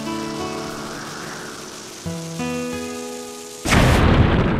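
A bomb bursts against a bombable wall in Zelda: Skyward Sword. It lands as one loud, sudden broadband blast near the end, rising over soft harmonic game music that plays beforehand.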